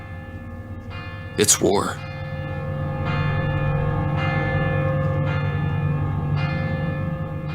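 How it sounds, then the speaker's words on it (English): Church bells ring in the distance in the Viviers area, sounding steady repeated strokes over a low hum, with a brief burst of speech partway through. "In the distance, we can hear the bells of Viviers"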